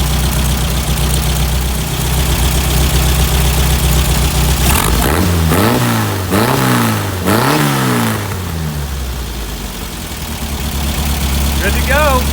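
A classic Volkswagen Beetle engine with dual carburetors runs loud and steady at close range, briefly rising and falling through a few quick revs before settling back to idle; a voice speaks near the end.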